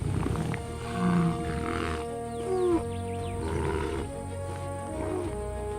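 A lion on the savanna roars in deep, resonant grunting bursts, several low groaning calls in sequence, with a wide natural ambience behind them.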